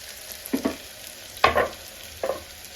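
Masala, chilli and chicken pieces frying in a pan for bagara rice, heard as three short scraping stirs with a soft sizzle beneath, fairly quiet with pauses between strokes.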